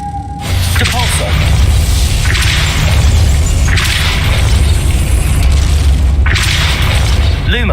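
Depulso spell cast repeatedly in the video game Hogwarts Legacy: loud booming, shattering magical blasts that recur across the stretch over a dense, constant game soundscape, with no talk.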